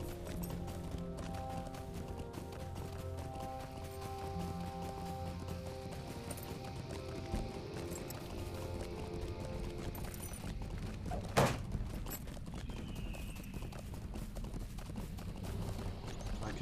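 Steady hoofbeats of a horse ridden at a trot in The Lord of the Rings Online, with game music and ambient effects running underneath throughout.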